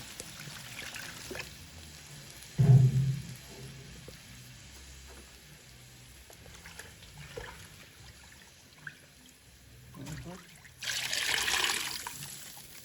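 Water trickles and splashes into a cooking pot for seasoned rice in short, fairly quiet bursts separated by near silence.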